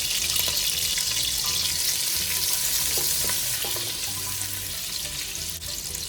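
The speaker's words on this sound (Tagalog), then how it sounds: "Sa mainit na kasirola, maglagay ng 1 tablespoon na cooking oil at 1/2 cup na butter. Igisa ang bawang." Garlic sautéing in a hot pan of cooking oil and butter gives a steady, dense sizzle with faint clinks of stirring, close and continuous without talk.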